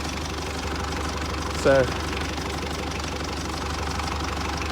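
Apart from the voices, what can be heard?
tractor engine running after jump start from F-150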